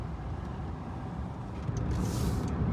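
Steady road traffic near Cherokee in the Smoky Mountains, a continuous low engine and tyre rumble that swells slightly toward the end, with no voices.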